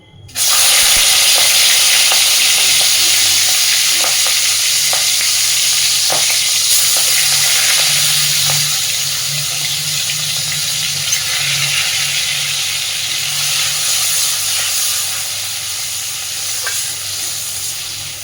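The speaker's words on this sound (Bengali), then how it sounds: "তেল খুব সুন্দর করে গরম হয়ে গেছে। এবার আমি আগে লবণ মাখানো চিংড়ি মাছটা ভেজে নেব।" Salted prawns frying in hot oil give a steady, loud sizzle that starts abruptly and crackles on without a break, with occasional pops and stirring, and no voices.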